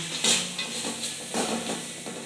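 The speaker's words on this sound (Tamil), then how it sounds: "இப்போ வெண்டைக்காயை வணக்கிக்கலாங்க." Okra stir-frying in a pan, a steady sizzle with scraping stirs of the spatula coming through in close, repeated strokes, with no voices.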